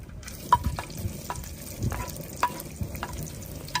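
Onions sizzle and fry in a pan for a prawn stew, with soft, steady crackling and a few light stirring clicks and scrapes, close and fairly quiet.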